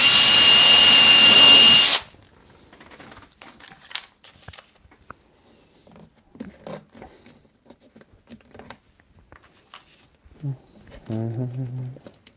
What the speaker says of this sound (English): let's just drill through that again and set it